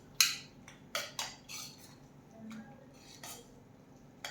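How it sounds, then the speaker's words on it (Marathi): A spoon stirs dal gravy in a metal cooking pot, giving scattered clinks and scrapes against the pot at an irregular pace, moderately faint and close, with no talking. "आपण याला थोडं मधामध्ये हलवून घ्यायचं आहे।"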